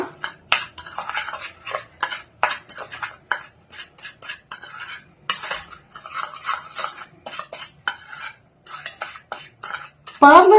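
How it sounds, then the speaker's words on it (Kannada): A spoon stirs a homemade face scrub with a little oil in a bowl. It makes repeated close scraping and clinking strokes in an irregular rhythm, with no talk. "ಈಗ ಇದನ್ನ ನಾವು ಚೆನ್ನಾಗಿ ಮಿಕ್ಸ್ ಮಾಡ್ಕೊಳ್ಳೋಣ"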